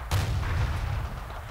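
A single heavy artillery blast in a World War II video game set around Sidi Rezegh, a sharp boom followed by a low rolling rumble that slowly fades.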